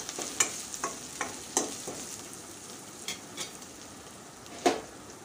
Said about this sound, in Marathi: आता आपण इथे टाकूया हिरव्या मिरच्या। हिरव्या मिरच्या सुद्धा थोड्या शिजवून घ्यायच्या आहेत।